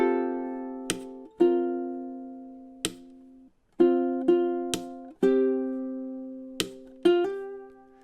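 A ukulele plays measures 17 and 18 of a song with clean, ringing strums. The chords come in a steady rhythm, each one decaying before the next, and no voice is heard.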